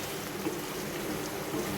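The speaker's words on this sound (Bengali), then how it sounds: "চুলার আগুনটা কম করে কালার করবে এবং ভাজা ভাজা হবে মাংসটা" Beef achar, a Bengali meat pickle, fries over low heat in a pan, giving a steady, close sizzle and crackle like fine rain that holds even throughout with no voices.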